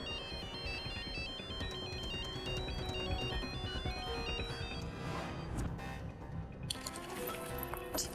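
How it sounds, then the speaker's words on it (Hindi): A mobile phone ringtone plays a repeating electronic melody at moderate volume, looping steadily for several seconds before cutting off, with no talking over it. "अमित का फोन?"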